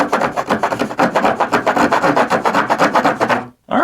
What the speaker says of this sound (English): just a little wood rasp